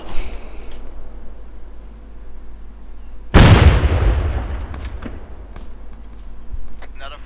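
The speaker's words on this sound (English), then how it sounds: "Friendly grenade out." A grenade detonates in the Arma 3 military shooter, a sudden loud blast at mid-clip with a long rumbling tail that fades over several seconds, followed by scattered distant pops and small impacts.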